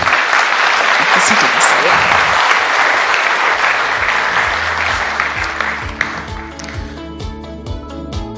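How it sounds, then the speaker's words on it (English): An audience at the India Digital Open Summit claps in a loud, sustained round of applause that slowly thins out into scattered claps as speech begins over it. "A huge round of applause, ladies and gentlemen."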